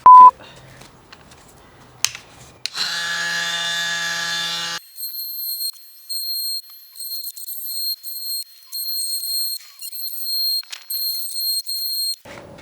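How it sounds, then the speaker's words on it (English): A jigsaw cuts a bumper vent template for a Rennline GT3-style vent on a Porsche 987 Cayman, giving a short steady buzzing run followed by intermittent high-pitched whining bursts against near silence. "So just by using the jigsaw, the blade is too wide for the lines that are cut in the template."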